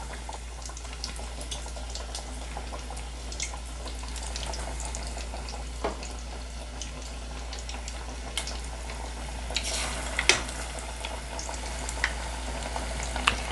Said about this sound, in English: Into the oil it goes. That's what we want to see.